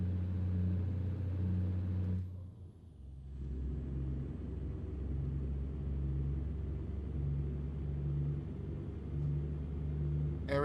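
Low, steady diesel engine rumble of an American Truck Simulator truck hauling a load too heavy for it, with softened suspension; droning continuously with a short dip near the start, then holding level.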